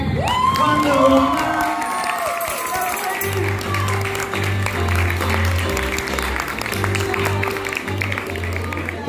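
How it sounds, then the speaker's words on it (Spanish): A crowd at the Punta Animé cosplay award ceremony cheers, whoops and applauds loudly, with shouts rising over the clapping and a pounding music beat coming in partway through. "Estamos con un aplauso."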